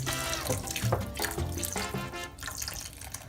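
Water running from a tap into a pan of vegan Spanish rice with bouillon, a steady close splashing and trickling stream that continues throughout without talk.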